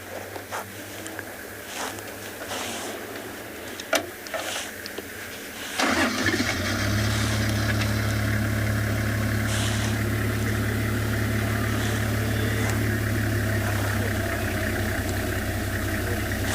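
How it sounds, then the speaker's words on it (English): On a sunset game drive, a safari vehicle's engine cranks and catches at about six seconds, then settles into a steady, close idle amid faint background knocks and clicks. "There's lots of vehicles in this sighting."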